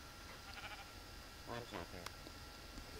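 Sheep in Minecraft, including a black sheep, give a couple of short bleats close together midway. A faint bleat comes earlier, and low background noise runs throughout.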